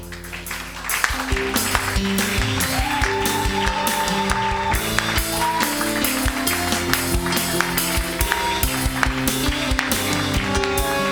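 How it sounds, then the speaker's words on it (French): A church congregation at a Sunday service claps rhythmically and steadily along with music, the repeated sharp claps blending into a loud continuous mix from start to finish. "Acclamons la parole"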